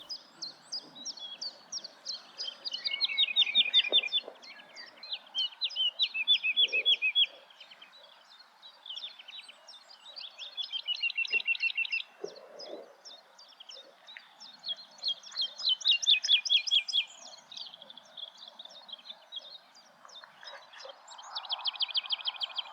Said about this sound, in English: The song of the woodlark is quite different to the skylark. It's a sort of a liquid, accelerating downward lilt.